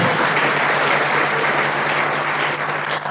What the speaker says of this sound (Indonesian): Jadi kita beri tepuk tangan untuk teman-teman yang memutuskan hadir di ruangan ini.